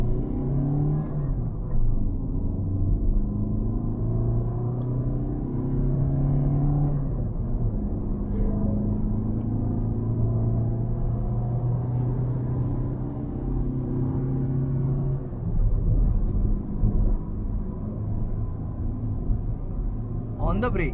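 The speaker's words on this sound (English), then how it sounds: "one quick 0 to 100 and the brakings of this vehicle" A Ford EcoSport Titanium S diesel with manual gearbox accelerates hard from a standstill, its engine droning and rising through the gears with road rumble, while someone talks over parts of the run.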